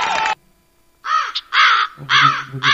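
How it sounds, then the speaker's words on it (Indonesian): A crow cawing sound effect played from a V998 karaoke soundcard: several harsh, loud, separate caws with a short pause after the first. "Bunyi gagak."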